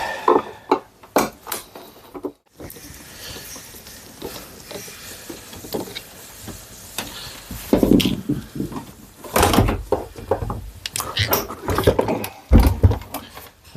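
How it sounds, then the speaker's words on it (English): The top cover is taken off a machine during a winter service, producing loud, close clunks, clicks and rattling mechanical handling noises in irregular bursts with brief pauses between them. "this is just taking the top cover off the machine to fully check the chassis"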